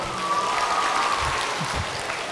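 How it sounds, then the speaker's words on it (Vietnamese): A crowd at a Buddhist monk's talk breaks into a steady round of applause, many hands clapping together in a continuous wash at moderate loudness, with faint voices murmuring underneath. "cho một tràng pháo tay nữa nào"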